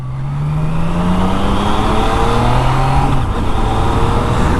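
A Yamaha MT-09 motorcycle accelerates hard in first gear, its engine note climbing steadily in pitch, loud and close with a constant rushing wind noise and no talk.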